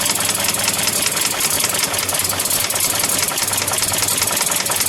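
A 1933 Buick Series 90 limousine engine idles loudly and steadily, with a continuous rough, knocking rumble and no voices.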